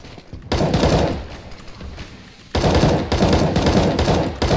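Rapid bursts of automatic gunfire from a shooter video game, loud and close, firing from half a second in, dropping to a softer spell, then a second dense volley after about two and a half seconds.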